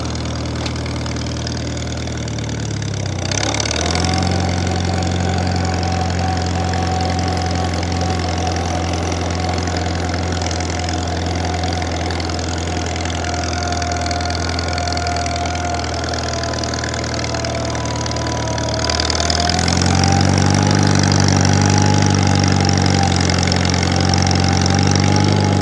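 A 1950 Farmall Cub tractor engine runs in gear with a steady, loud mid-pitched drone and a constant tone. After a brief dip near the start, it rises in pitch and loudness late in the clip.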